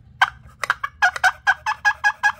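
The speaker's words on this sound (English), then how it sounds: "That's a turkey call." A turkey game call is sounded at a house. It gives rapid, close gobbling yelps in a quick series of about a dozen sharp, evenly spaced bursts, loud and clear, with no voices.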